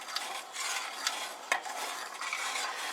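A metal spoon scrapes and stirs a pot of bubbling molasses caramel for caramel corn over medium heat, giving a steady close scraping with a few sharper clinks against the pot, no voices.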